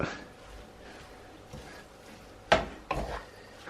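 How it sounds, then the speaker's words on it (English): Bacon and cabbage spaghetti with parmesan is stirred in a pan, giving soft scraping and rubbing strokes, faint and intermittent, with two sharper utensil knocks near the end. "Now we just need to stir this all together and mix it all up."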